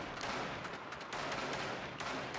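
Enemy gunfire in a video game crackles in a dense, continuous barrage of rapid shots, loud and steady for the whole stretch without pause.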